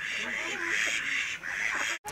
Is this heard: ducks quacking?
yes